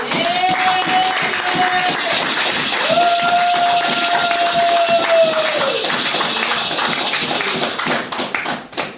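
A French-speaking church congregation claps and cheers to acclaim God, a loud, dense wave of applause with raised voices and sustained shouts over it, thinning into scattered claps at the end.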